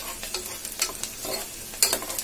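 Mutton curry in tamarind gravy is stirred in a pan with a steady low sizzle. Scraping strokes come in irregular bursts, close by, with no voices.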